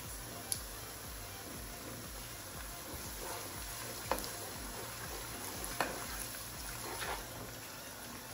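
Chicken curry with tinned tomatoes and green chilies simmers in a pan over medium heat, giving a soft continuous sizzle and bubbling with a few faint clinks of a utensil, no voices.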